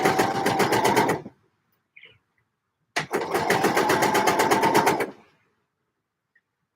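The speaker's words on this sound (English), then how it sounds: "let's get the last dart sewn" A sewing machine stitches a dart on a dress in two close, loud bursts of quick rhythmic needle chatter, each about a second or two long, separated by silence.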